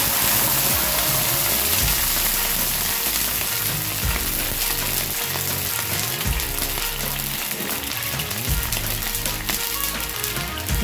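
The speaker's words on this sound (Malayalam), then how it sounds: "ഇതിലേക്ക് കുറച്ച് വെള്ളം ഒഴിച്ച് കൊടുക്കാം." Water poured into a pan of frying green chillies and mustard seeds in ghee erupts into a loud, steady sizzle with bubbling, close up and with no talk.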